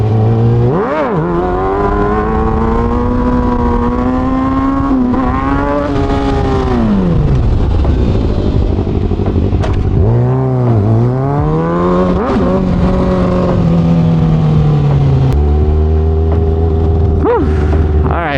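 A motorcycle engine revs loud and close throughout a wheelie, its pitch rising and falling steadily with throttle changes in long sweeping surges.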